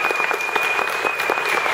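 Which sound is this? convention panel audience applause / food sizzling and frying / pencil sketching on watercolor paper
convention panel audience applause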